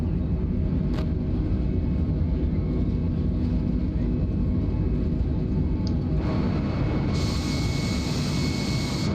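An airliner takes off from runway 22 right in Flight Simulator, with a steady, loud jet engine roar throughout and a brighter high-pitched whine that rises near the end as the plane leaves the ground.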